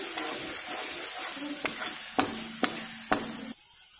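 Onion, ginger and garlic paste fries in a hot pan with a steady, close sizzle, while a spoon scrapes and taps the pan four times in quick, irregular strokes before the sizzle drops away.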